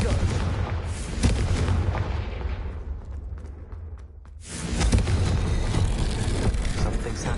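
A Confringo fire spell explodes in the video game Hogwarts Legacy with heavy booming blasts and rumble. The sound dips briefly before another loud burst of fiery explosions.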